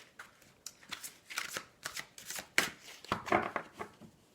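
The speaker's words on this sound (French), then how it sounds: "Allez, on va faire une petite coupe." A deck of tarot cards is handled and cut close up, a run of soft papery riffling and slapping card sounds in quick irregular bursts, quiet and alone without talk.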